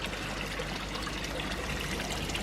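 Water from a pond pump trickles and circulates through an L-shaped garden pond, a steady faint gurgling wash with a low hum beneath, close and unbroken.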